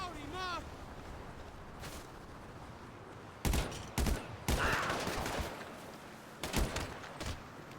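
Gunfire in GTA Online's Cayo Perico heist comes in a few sharp bursts, mostly in the second half, over quieter background game sound. Speech-like sounds are present, but no words come through clearly.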